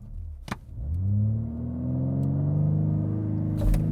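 BMW M3 Touring (2025) performing a launch control start: engine revs and pulls hard in rising gears, loud and close from inside the cabin, with a steady rumbling climb and no talking.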